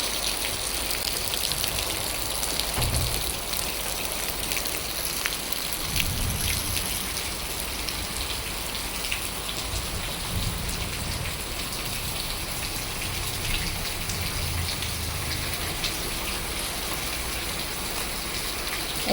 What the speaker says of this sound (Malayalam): മഴ, നല്ല മഴ